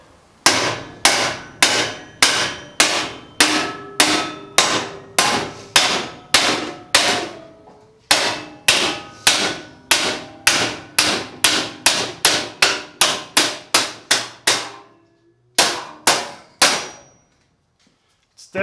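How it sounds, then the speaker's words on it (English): A ball peen hammer pounds a crease into steel sheet for a DIY shop cabinet, striking about thirty loud, ringing metallic blows in a steady rhythm, with a few short pauses between runs. "Grabbing a ball peen hammer, and I'm just going to try and pound a nice crease into it."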